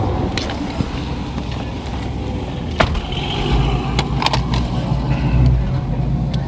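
Ford Mustang engine with newly installed headers, revved gently to around 1,000 RPM, a near, rough idle rumble that swells in a short burst of revving toward the end, with light clatter and no talk.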